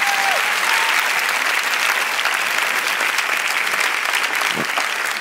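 An audience at a magic show applauds a volunteer, sustained crowd clapping that stays even and moderately loud throughout, with a brief faint tone at the very start.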